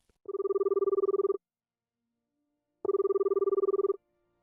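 A phone line rings twice as an outgoing call is placed, each ring a buzzing tone lasting about a second, separated by a silent pause, clear and close.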